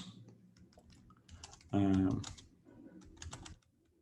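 Rapid typing on a computer keyboard while coding a competitive programming solution, with close, dense key clatter throughout and a brief spoken interjection partway through.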